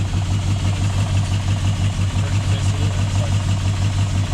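A 1981 Ford XD with a rebuilt 250 engine idles steadily and loudly up close, a deep, even rumble with no breaks.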